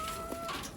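Rhode Island Red and sex link hens give a brief, faint cluck or two, soft and somewhat distant against a steady background hiss.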